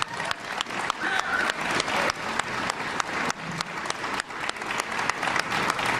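A crowd at a White House Soldier Ride event gives sustained, enthusiastic applause, with many hands clapping steadily and no talk over it.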